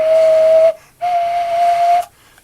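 A homemade paper flute blown in two sustained, steady whistling tones, each about a second long with a short gap between, loud and close with no talking.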